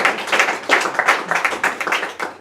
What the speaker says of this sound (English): I can get a round of applause for smoking pot.